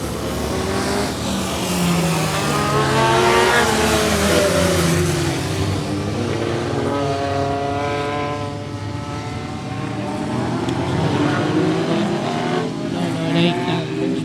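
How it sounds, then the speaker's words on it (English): Race cars circuit Swaffham Raceway at speed, a loud continuous engine roar with rising and falling pitch as cars pass, under a race commentator's steady talk. "Slow car on turn 1, stay inside, we're still racing."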